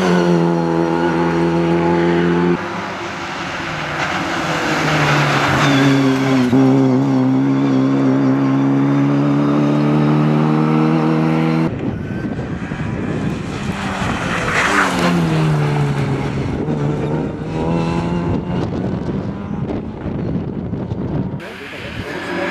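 Small rally car on a stage of the Daltek Rally Fulnek-Odry 2024, its engine loud and revving hard through gear changes as it drives past, with wind buffeting the microphone.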